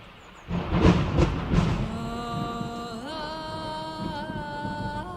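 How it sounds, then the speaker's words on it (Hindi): A couple of heavy booming thunder cracks rumble loudly near the start, then fade as a steady ringing tone rises. "और तभी जोर से बिजली कड़की।"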